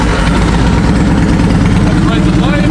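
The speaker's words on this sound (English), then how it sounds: "We're gonna fire this up for you so you can hear it run." A 2002 Yamaha Road Star Warrior motorcycle engine runs close and loud, a steady low throbbing rumble filling the whole stretch without pause.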